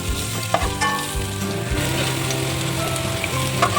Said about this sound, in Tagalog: igigisa natin ang ating onion and garlic